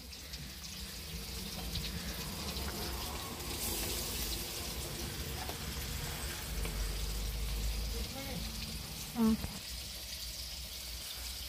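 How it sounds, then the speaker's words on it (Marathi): Fresh river fish fry in a pan with a soft, steady sizzle, faint and low throughout, while a person talks over it. "आता आपण असे सगळे मासे फ्राय करून घेणार आहे"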